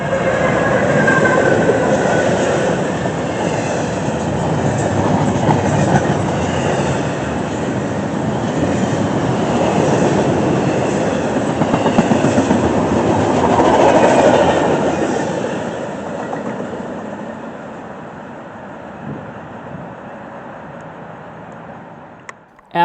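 Norfolk Southern train 25P rolls past close and loud in a continuous rumble with clattering wagon wheels, swelling midway and then slowly fading as it moves off.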